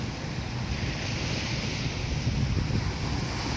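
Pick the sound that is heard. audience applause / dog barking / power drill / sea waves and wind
sea waves and wind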